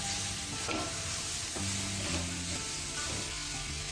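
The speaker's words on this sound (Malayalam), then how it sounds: "സവാള ചേർത്തതിന് ശേഷം എല്ലാം കൂടി നമുക്ക് ഇളക്കി യോജിപ്പിക്കാം" Sliced onions and green chillies for chicken roast fry in a pan with a constant loud sizzle, while a spatula stirs and scrapes through them repeatedly.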